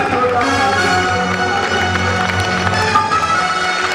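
Loud, continuous clapping and cheering from a crowd at a Jain Chaturmas Kalash Sthapna ceremony in Kishangarh, blended with steady background music.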